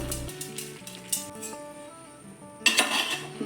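A spoon mixes chili and turmeric powder into avial vegetables in a pot, making a few sharp metallic clinks and scrapes against the vessel with a brighter clatter near the end.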